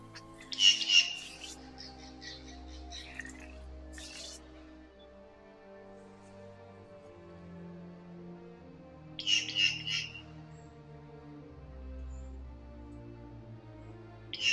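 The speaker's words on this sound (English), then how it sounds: "a group of green jays flying close to the nest, with their loud shrill disturbing her tranquility" Loud shrill squawks from a group of green jays flying close to a nest, coming in a couple of short bursts over a low, quiet background.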